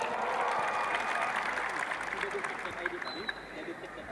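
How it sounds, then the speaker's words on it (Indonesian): Applause and crowd noise fill the room at a gathering of Indonesian journalists, a steady wash of clapping with voices speaking beneath it. "Tepuk tangan untuk jurnalis Indonesia."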